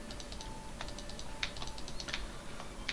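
Keys on a computer keyboard are pressed in quick, irregular clusters of soft clicks, close and fairly quiet, with no talking.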